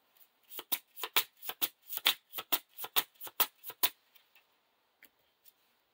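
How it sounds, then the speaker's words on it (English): A deck of playing cards for a Lord of the Rings card game is shuffled up close: a quick, quiet run of crisp riffling snaps for about four seconds, then a few scattered taps. No voices. "The first player shuffles his deck and reveals the top card."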